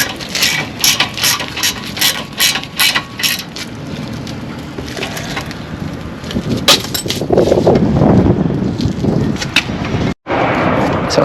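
A ratchet wrench clicks rapidly in bursts while tightening bolts on the front strut of a 2010-2014 Acura TSX wagon, close and loud, followed by heavier mechanical clanks and rustling work noise.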